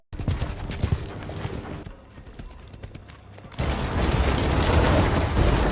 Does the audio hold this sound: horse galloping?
yes